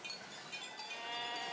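Sheep bleat on a high Swiss alpine pasture, a busy overlapping chorus of many animals. The calls sit at middle distance and grow slightly louder and denser toward the end.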